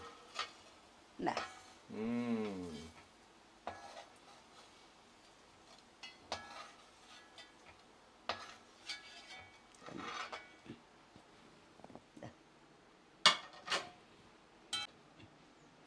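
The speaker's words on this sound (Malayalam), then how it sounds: "അത് ശ്രദ്ധിച്ച് ഇളക്കി കരിഞ്ഞു പോകാണ്ട് നോക്കണം" Cauliflower fry is stirred in a pan with a spoon, giving sparse, close clinks and scrapes at irregular intervals in a quiet kitchen, with someone talking in between.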